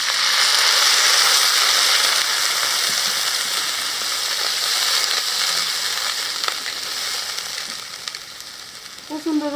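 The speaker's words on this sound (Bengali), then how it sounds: "পেঁয়াজগুলো একটু ভালো করে ভাজে নিলাম, নতুন পেঁয়াজ তো ভালো করে ভাজলে হলো গলে যায়। একটু পানি দিয়ে দিই।" New onions sizzle steadily in a kadai with a little water added, a dense broadband crackle that eases slightly toward the end, with a few faint clinks.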